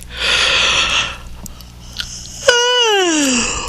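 A breathy inhale followed by a long, falling moaning yawn, close and fairly loud.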